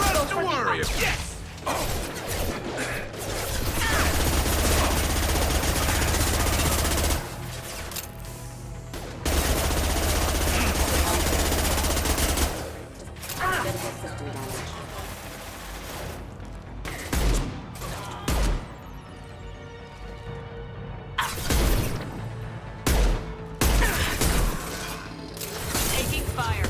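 Gunfire in a Mass Effect 2 firefight: bursts of rapid automatic shots and heavy impacts, loud and close, broken by short pauses, with a voice speaking between the volleys.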